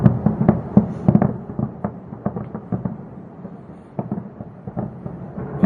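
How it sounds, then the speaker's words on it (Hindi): Repeated dull booms and sharp cracks of bomb explosions during an Israeli strike on Tehran go off irregularly in the distance, dense at first and then more scattered, echoing faintly. "ये देखिए, बम के धमाके, आसमान में लगातार आवाजें।"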